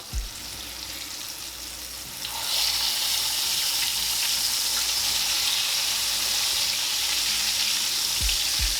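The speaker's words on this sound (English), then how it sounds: "Let's go ahead and flip our liver over." Liver slices sizzle loudly in a hot pan after being turned, a dense, even hiss that swells midway and holds steady, with a couple of faint utensil taps.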